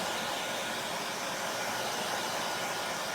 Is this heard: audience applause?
no